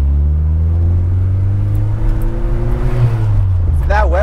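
A 1986 Toyota Hilux engine fitted with a Weber carburetor rumbles loudly up close, its pitch climbing steadily as it revs, and a voice comes in toward the end.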